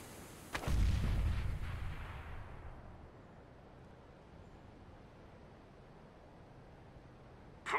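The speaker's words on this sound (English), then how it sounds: "I'm throwing a grenade." A grenade thrown in CS:GO on Dust2 bursts into one loud, booming explosion that rumbles and fades over a couple of seconds, leaving quiet game ambience before a brief sharp sound at the very end.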